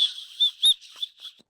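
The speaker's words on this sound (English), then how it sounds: "it's also a whistle" A Leatherman Signal multitool's built-in whistle, part of its ferro rod fire starter, gives a run of short, shrill, piercing blasts, one slightly louder than the rest, heard clearly on its own.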